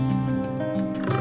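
Asian golden cat at a zoo gives a short, low, harmonic vocalization, a sustained moaning growl with slight pitch shifts, heard close and alone for just over a second.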